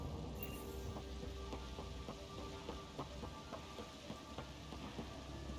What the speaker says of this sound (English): The rain makes everything a little slick.